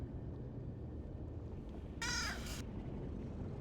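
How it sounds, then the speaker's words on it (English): A single harsh, crow-like caw rings out once, loud against a quiet background rumble, lasting about half a second. "That was a bird."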